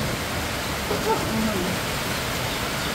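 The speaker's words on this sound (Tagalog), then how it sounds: "Lakas po ng ulan." Heavy rain pours down in a constant dense hiss, with a voice murmuring briefly in the middle.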